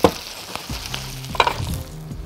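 Chicken pieces frying in butter and garlic in a pan give a steady, moderate sizzle punctuated by a few sharp clinks and scrapes against the pan, with no speech.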